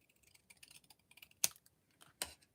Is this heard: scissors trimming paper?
yes